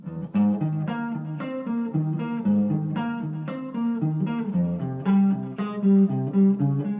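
Electric guitar plays a closing outro alone, with steady picked notes and chords ringing clearly at moderate volume.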